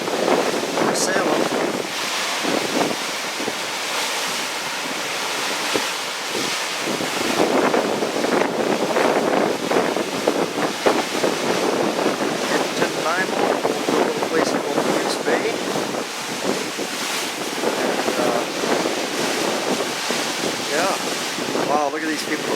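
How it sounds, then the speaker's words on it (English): A sailboat moves across open water near Nanaimo Bay, with loud wind buffeting the microphone and waves washing against the hull throughout, and a voice speaking over it. "we're sailing."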